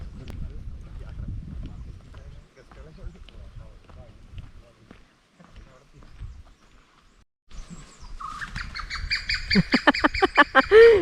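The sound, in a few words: birds calling in forest, Silent Valley National Park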